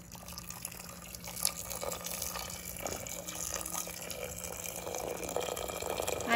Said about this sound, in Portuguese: E eu vou colocar mais um pouquinho de água,